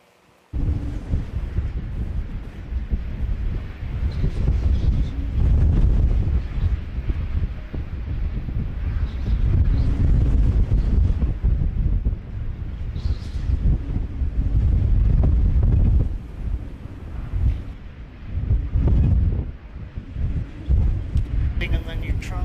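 Strong wind at Christchurch Airport buffets the microphone in heavy, rumbling low gusts that surge and ease unevenly, loud and close throughout, with a person talking beneath the roar at times.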